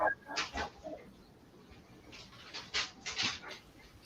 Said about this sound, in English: We got a dog panting somewhere?